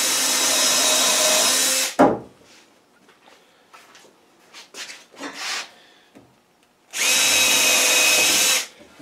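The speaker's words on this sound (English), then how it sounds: "So I want to drill a pilot hole first." Two loud bursts of a power drill drilling pilot holes for deck railings, one at the start and one near the end, with quiet handling clatter and shuffling in between.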